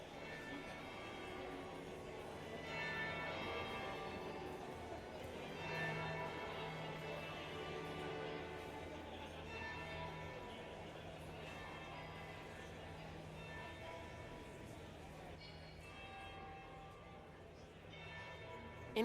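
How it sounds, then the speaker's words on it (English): Church-style bells ringing at a noble's party in Dragon Age: Inquisition, a sustained resonant tolling layered with music and faint chatter, steady and moderately loud throughout. "That would be the second bell."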